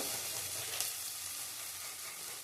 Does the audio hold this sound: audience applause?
no